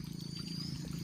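Water trickling and pouring along a village stream, a steady close wash of flowing sound with a faint high tone above it, continuous for the whole moment with no talk.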